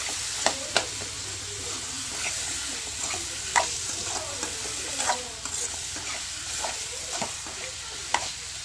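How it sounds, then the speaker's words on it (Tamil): Green beans and softened tomato stir-frying in coconut oil, giving a soft continuous sizzle broken by sharp spatula clinks and scrapes against the pan at irregular intervals, with no talk. "இப்போ தக்காளி வதங்கிருச்சு, நம்ம பீன்ஸ் போட்டுக்கலாம்."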